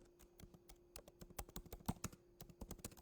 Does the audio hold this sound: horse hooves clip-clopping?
no